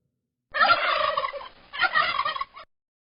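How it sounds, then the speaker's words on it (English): A turkey gobbles in two loud, rapid, rattling bursts with a short gap between them, close and clear with nothing else in the background. "A turkey goes."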